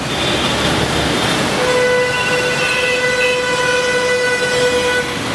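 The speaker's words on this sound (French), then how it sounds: "Puis dans ce pays, on klaxonne pour dire qu'on est là." Horns sound in busy city street traffic in India, one sustained tonal honk held for several seconds over a constant roar of traffic.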